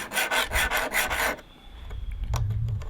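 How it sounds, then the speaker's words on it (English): Flat file rasping across the depth gauge risers of a 3/8 chainsaw chain, a run of close, rhythmic scraping strokes that stops partway, followed by faint clicks and low handling noise. "We run a flat file over the top of the riser, and we do every alternate tooth."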